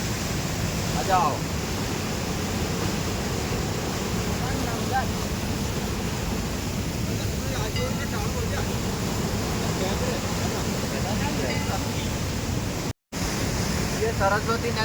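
The Saraswati river rushes steadily at Badrinath, a loud, continuous roar of flowing water close by that lasts throughout, with one abrupt dropout near the end.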